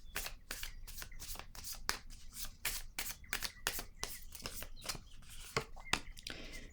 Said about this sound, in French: Je vais déposer une carte sur la sagesse à l'envers